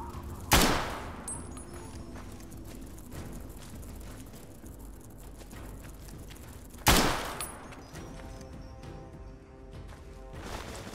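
Gunfire in Fallout: Tale of Two Wastelands, two sharp loud shots about six seconds apart over a steady rumbling background, with softer scattered pops between them.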